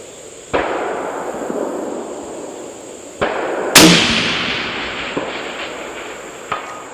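Suppressed shots from a lightweight Bergara rifle fired at distant steel targets out to 700 yards in stiff wind, heard as four sharp cracks spaced a few seconds apart, the loudest followed by a long decaying rumble, with no talking.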